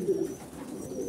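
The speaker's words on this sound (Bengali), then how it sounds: "কবুতর কিন্তু খাওয়ার জন্য পাগল হয়ে আছে" Fancy-breed pigeons, among them Beauty, Racer and Grizzle types, coo softly while eager for food, a low continuous murmur over faint background noise.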